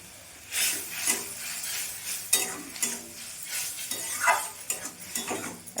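Turmeric and chilli powder masala fries in a pan for a Bengali chana dal and cucumber dish, with repeated bursts of sizzling and rhythmic spatula scraping, close and moderately loud.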